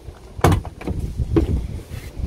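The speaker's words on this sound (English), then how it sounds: "Let's open up the rear door here." Rear door of a 2008 Ford F150 XL regular cab pickup swinging open: a sharp latch clack followed by a few lighter clunks and rattles of the door, close and fairly loud, with no talking.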